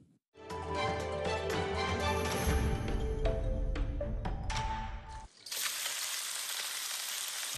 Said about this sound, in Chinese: 处理好的甲鱼下锅翻炒